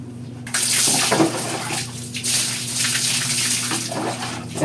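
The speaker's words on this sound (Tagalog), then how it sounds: "Siyempre, banlawan maigi yung pang body scrub." Tap water runs steadily and loudly, splashing against skin and into a basin while body scrub is rinsed off in a bathroom, close and continuous without talk.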